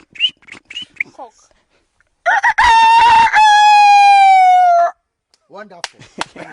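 A person imitates a rooster crowing, giving one loud, sustained cock-a-doodle-doo call of about three seconds. Brief voice sounds come before and after it.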